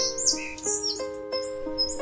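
Steller's jay in British Columbia giving a series of harsh, raspy squawks, about four or five loud calls repeated at a quick irregular rhythm over faint background chirps, with no talking.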